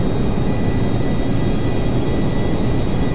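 Jet engines of a Rockwell B-1A Lancer bomber throttling up in Flight Simulator X, a steady loud roar with a constant whine and no clear change in level.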